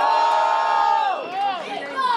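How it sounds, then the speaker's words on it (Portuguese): A dense crowd at a rap battle semifinal cheers and shouts together, loud and sustained, with many voices rising and falling in overlapping yells. "Quem acha que o Lamarck foi mais criativo no segundo round? Faz barulho."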